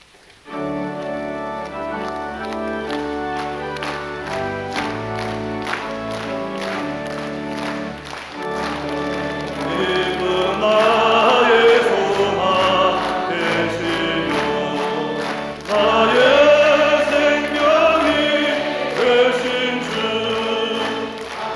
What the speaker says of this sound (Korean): 찬송가 82장 찬송 박수 치면서 우리 힘차게 한번 부릅시다